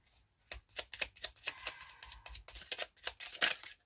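Tarot cards shuffled for a reading give a quick, soft run of riffling, flicking snaps, close and fairly quiet with no voices.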